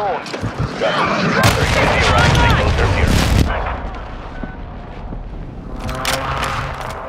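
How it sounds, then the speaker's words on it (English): Heavy explosions from an incoming airstrike in Modern Warfare II, a dense roar of booms and blasts with gunfire, loud and close at first, then easing into a quieter rumbling background before another burst near the end. "Hostile airstrike incoming"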